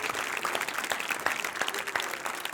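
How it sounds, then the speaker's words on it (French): A small group claps at the end of a home boxing and jump-rope workout, brisk uneven hand claps close by, lasting a couple of seconds with no talk. "on peut venir s'applaudir."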